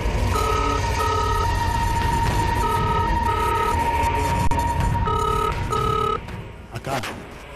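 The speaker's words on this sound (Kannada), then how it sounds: "ಯಾರೋ ಫೋನ್ ಮಾಡ್ತಿದ್ದಾರೆ" A telephone rings in repeated double bursts, loud and close, over a steady hum; the ringing stops near the end.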